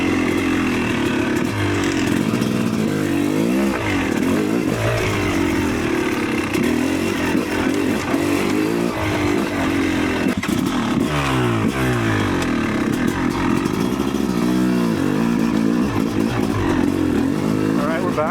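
A Yamaha YZ300 electric-start two-stroke dirt bike engine runs loud and close, revving up and down repeatedly in rising and falling bursts over a steady idle, with someone talking over it.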